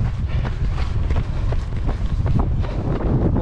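Wind buffets the microphone in a steady, loud broadband rumble while a runner covers a 92 km relay race, with gusts pushing through the whole stretch and no voices.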